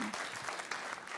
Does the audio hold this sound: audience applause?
yes